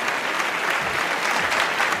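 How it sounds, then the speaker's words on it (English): An audience at a comedy show claps continuously, a close, steady wash of applause with no gaps. "and then in post we're gonna isolate that clapping"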